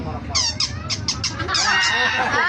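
A chicken clucks repeatedly up close, short bursts over a background murmur of people talking.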